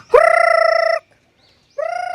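A chicken calls loudly nearby, one long drawn-out cry, a short silence, then a second call begins.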